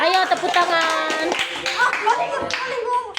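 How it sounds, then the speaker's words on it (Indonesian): Children clapping hands in a classroom, a loose burst of claps mixed with kids' voices and a teacher talking over them, close and lively. "Ya, terima kasih, tepuk tangan untuk mereka. Ayo tepuk tangan."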